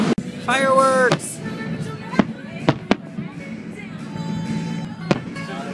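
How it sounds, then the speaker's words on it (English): Fireworks going off outdoors at night: several sharp, loud cracks and bangs spaced a second or so apart, with a whistling rise at the start and people talking and calling out over the noise. "Fireworks!"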